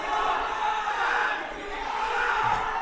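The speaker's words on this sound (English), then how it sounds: "You see the crowd." A live crowd at a Philippine Combat Championship MMA event roars in a steady, loud wall of shouting and cheering that dips briefly midway and then surges again, with no clear speech on top.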